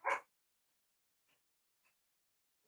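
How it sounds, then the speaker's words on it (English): A dog indoors, reacting to work going on across the street, gives one short, sharp bark up close, followed by two much fainter, brief yips in otherwise near-silence. "Oh, we're gonna bark some more?"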